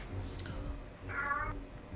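A house cat gives a single clear meow at close range, brief and tonal, over quiet room noise and game sounds.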